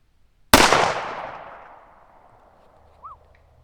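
A single sharp, loud shot from a Smith & Wesson M&P Pro pistol with a 5-inch barrel, cracking nearby and leaving a long decaying echo, followed by a faint brief electronic beep.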